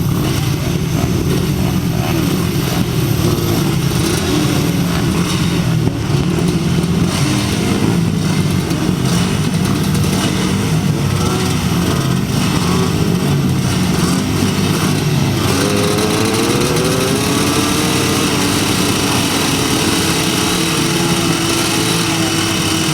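250cc solo grasstrack motorcycles racing at the 2007 Tallington Flyer meeting, a loud continuous blare of several engines revving and fading as the bikes pass, with some faint speech mixed in.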